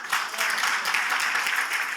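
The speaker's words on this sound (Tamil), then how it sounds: "கொஞ்சம் நல்லா கைத்தட்டி கொடுக்கலாமே." A church congregation clapping their hands during a Sunday morning service, a dense, steady wash of many hands that runs unbroken and fairly loud from start to finish, with no talking over it.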